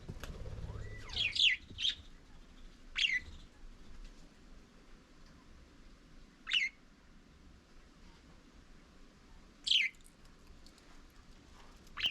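Parakeets in an outdoor aviary give short, sharp chirps, scattered singly and in small bursts at irregular intervals against a quiet background.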